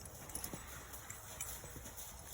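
Quiet rhythmic hoofbeats of a Shire horse running in circles around its trainer during groundwork training, a soft repeated clip-clop thudding steadily throughout.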